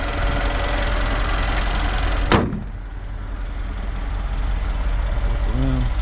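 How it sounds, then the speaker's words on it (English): A Mercedes-AMG G63 in Alien Green idles steadily, a smooth, low engine hum that runs throughout with a sharp click or door thud partway in. "Engine's nice and quiet, no weird noises or anything like that."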